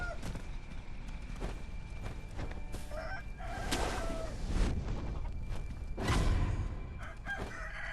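A chicken clucks and crows in repeated short bursts from a game, moderately loud over a low ambient hum, with several sharp squawks spaced across the stretch.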